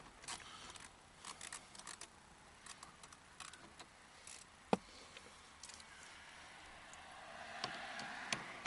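Faint ratcheting and metallic clicks of a socket wrench backing out four 6mm bolts from a 2013 Ford Mustang door panel, with occasional sharp ticks and jangles over a steady low hiss.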